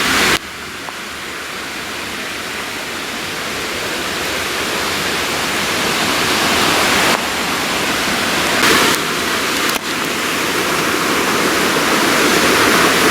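Broad, steady rushing of flowing river water at the Hot River in Costa Rica, loud and close, continuing unbroken with no voices.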